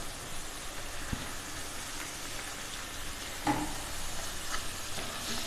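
Chopped tomatoes for thokku sauté in a pan over medium heat, giving a soft, steady sizzle with occasional stirring clinks and scrapes, fairly close and unbroken.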